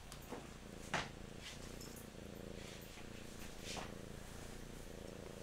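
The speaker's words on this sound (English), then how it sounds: "You can probably hear her purring because she's got a very loud purr motor" A cat purrs in a steady, low continuous rumble close by, with a couple of faint brief knocks over the top.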